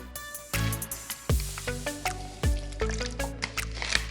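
Water is poured into pre-cooked white cornmeal in a pan for arepas. It makes soft, wet splashes and squishy drips in short, irregular bursts over a quiet tonal background.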